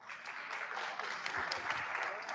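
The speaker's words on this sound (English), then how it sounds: "Please give him a round of applause." A room of attendees at a research colloquium gives a round of applause, a continuous wash of clapping of moderate loudness lasting the whole stretch.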